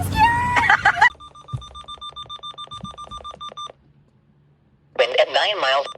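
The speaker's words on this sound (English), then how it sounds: "Oh, it's my alarm." An electronic alarm beeps in a rapid regular pulse for about two and a half seconds, loud and alone, with animated voices before and after it.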